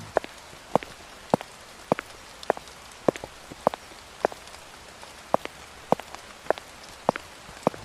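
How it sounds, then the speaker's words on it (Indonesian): Rain falls steadily, a soft even hiss under a string of sharp, regularly spaced drops that tick out clearly one after another, close by. "Hujan lagi."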